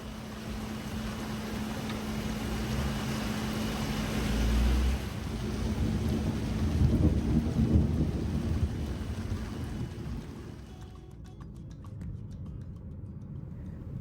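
Night rain falling steadily outdoors, with low rumbles of distant thunder swelling midway, then the downpour continuing alone at a softer level.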